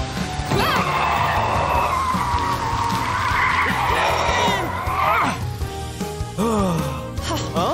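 A cartoon race car named Matilda skids out of control on a dangerous turn, a long loud tire screech with engine whine running several seconds, ending in sharper squeals and a clatter near the end.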